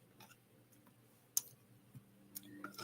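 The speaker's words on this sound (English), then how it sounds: "get my little dice here" Small dice are picked up and handled, giving a few sparse, sharp clicks and light taps against a quiet room background.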